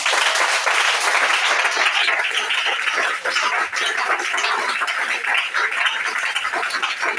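A church congregation applauds, with dense, continuous clapping that stays loud and close for several seconds, mixed with a few voices.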